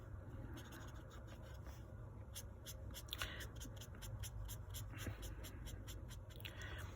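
An alcohol marker is stroked across paper to colour in shadows, giving faint, close, repeated scratchy strokes in quick succession.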